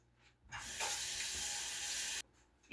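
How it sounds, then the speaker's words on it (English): Cold tap water runs over chopped onion in a kitchen sink, a steady bright splashing rush that starts abruptly, holds for under two seconds and cuts off, with faint clinks around it. "I run it under cold water for about 15-20 seconds"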